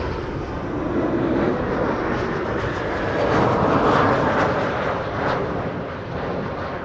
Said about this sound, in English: First off, all this is an Embraer 190 from Air France.